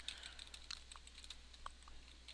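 Quiet, irregular clicking of keys being typed on a computer keyboard, with a steady low hum underneath.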